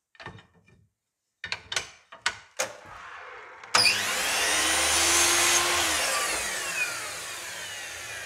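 Timber glazing bars for a sash window being cut to length: a few light knocks and taps, then a power saw starts with a loud, sustained whining cut close to the listener.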